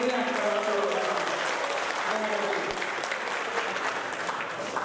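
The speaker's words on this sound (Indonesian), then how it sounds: "kepada hadirin yang sudah berhadir untuk memberikan tepuk tangan sekali lagi yang meriah kepada saudara" An audience at an Aceh Selatan regent candidate debate breaks into loud, dense applause. The clapping stays steady and close throughout, with some crowd murmur mixed in.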